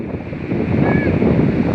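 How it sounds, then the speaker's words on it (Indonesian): Surf at Brumbun beach in Tulungagung, East Java, on the southern sea, a steady loud roar of breaking waves mixed with wind buffeting close to the microphone. "ini pantai laut selatan, jadi gelombangnya lumayan agak besar"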